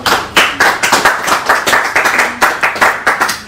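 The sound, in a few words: audience clapping for a donor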